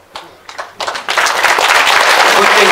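An audience at a Korean political lecture breaks into applause that starts as a few scattered claps and quickly swells into loud, dense, sustained clapping from the crowd.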